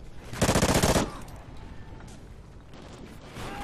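A Bizon submachine gun in Call of Duty: Ghosts fires one loud rapid burst of about ten quick shots in under a second, followed by a quieter steady background of game ambience.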